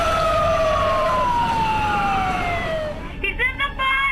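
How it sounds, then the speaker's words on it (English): A loud siren wails steadily, its pitch sliding slowly downward, then breaks into short choppy bursts over a rumbling background. "Finally, I hear the sirens come."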